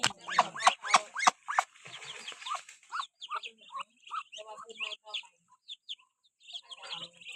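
Ducks near green rice fields before rain give a run of loud, raspy calls up close, then a longer stretch of quicker, fainter chattering quacks.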